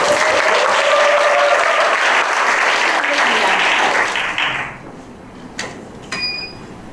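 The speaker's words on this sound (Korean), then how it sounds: "한 번만 크게 박수 한번 부탁드릴게요" Audience at a library book-talk contest breaks into loud, close applause that holds steady for several seconds, then fades out, leaving a few scattered claps and faint room noise.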